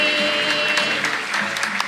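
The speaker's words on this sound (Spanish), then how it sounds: "Fuerte el aplauso." Congregation at a Catholic Mass in a parish church in San Lorenzo breaks into loud, sustained applause after a birthday song, a steady dense roar of hands clapping close and full.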